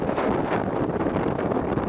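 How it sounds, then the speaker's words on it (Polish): Strong wind buffeting the microphone during a winter gravel bike ride across open fields, a steady loud roar with gusty rumble throughout. "Bo pod ten wiatr to miejscami naprawdę ciężko."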